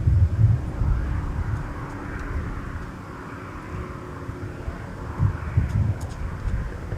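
Jet aircraft at Minneapolis–St. Paul airport, a broad, steady low engine roar in the distance with some wind buffeting on the microphone, swelling slightly at the start and again near the end.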